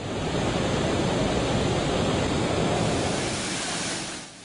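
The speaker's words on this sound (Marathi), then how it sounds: "नळदुर्ग किल्ल्यातल्या नरमादी धबधब्यापैकी हा मादी धबधबा 3 वर्षानंतर तो फेसाळतोय।" The female waterfall of Naldurg fort, foaming and rushing with water after the rains for the first time in three years, makes a steady, dense roar of falling water that fades slightly at the end.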